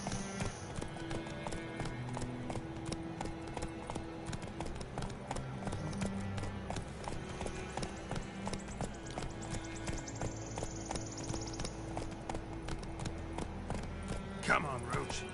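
Roach the horse's hooves clip-clop steadily in The Witcher 3, a continuous trotting rhythm under game music and voices.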